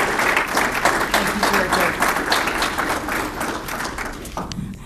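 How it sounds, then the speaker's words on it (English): An audience at a public presentation breaks into a dense, continuous round of applause that fades slightly near the end, with a few voices mixed in. "And if I get a round of applause for Victor"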